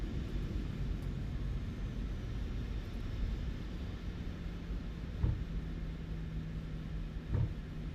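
A Jet2 airliner taxis at East Midlands in a flight simulator, its jet engines a steady low rumble and whine with faint rolling thumps, continuous and moderately quiet.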